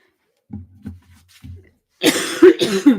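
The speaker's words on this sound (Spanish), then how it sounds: "perdonad porque estoy con mucha tos" Several short, throaty coughs come in quick bursts, followed by a louder, harsher fit of coughing up close.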